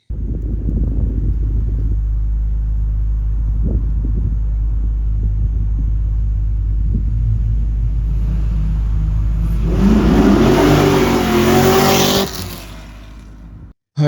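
A modified C6 Corvette V8 with a refreshed motor, aftermarket cam and tune idles with a deep, loping rumble, then is revved hard to a loud, rising scream before dropping off abruptly, close to the microphone.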